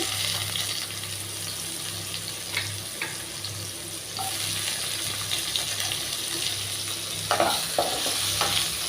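Eggplant pieces sizzle steadily in hot oil in a pan while a spatula scrapes and stirs them in short strokes, close and constant.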